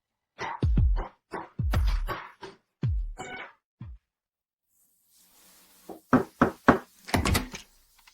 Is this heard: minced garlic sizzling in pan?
no